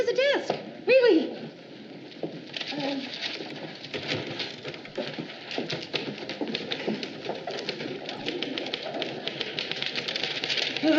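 Typewriter keys clatter in rapid, uneven bursts at a desk in an office, a steady close tapping that runs beneath brief speech and a cooing bird-like sound at the start.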